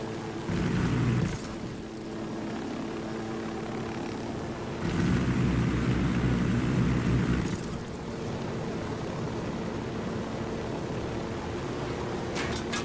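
A helicopter flying in the video game Ghost Recon Wildlands, a continuous whirring rotor and engine roar that swells louder twice, with faint game effects under it and no speech.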